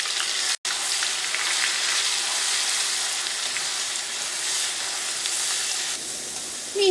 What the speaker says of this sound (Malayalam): ഇഞ്ചിയും വെളുത്തുള്ളിയും എണ്ണയിൽ കിടന്ന് നന്നായിട്ട് മുരിയണം